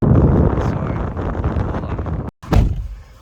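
Strong wind buffets the microphone in a low roaring rush, cutting out abruptly for a moment before a loud gust returns, with a dull thunk near the gap.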